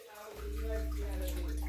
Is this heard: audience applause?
no